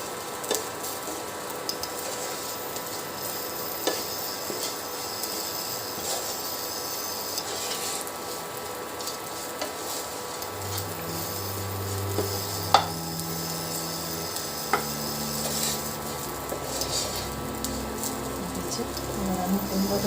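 Dried coconut is stirred in a pan for a bengali pumpkin curry, giving a soft continuous sizzle with occasional scraping and tapping of the spatula. The sound stays at a steady, moderate level throughout.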